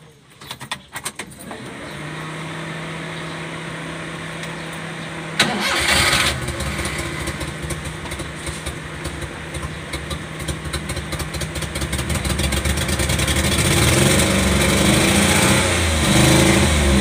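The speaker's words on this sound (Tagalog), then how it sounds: "try natin i-start guys kung aandar pa rin ba yung makina kahit ginamitan natin ng high pressure wash" Engine of a Daihatsu Hijet FI multicab pick-up, converted to a carburetor, starting after a high-pressure wash: keys jingle, a short crank catches, then the engine settles into a steady close idle that grows louder and rougher toward the end.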